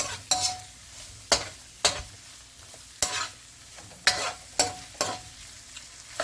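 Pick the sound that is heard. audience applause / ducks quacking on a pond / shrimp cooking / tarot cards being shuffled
shrimp cooking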